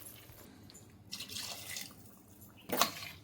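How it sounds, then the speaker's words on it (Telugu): Water poured into a mutton curry pot with taro roots, a light trickle and splash that rises to a brief louder gush near the end, heard close with no talking. "వాటర్ పోసుకుందాం."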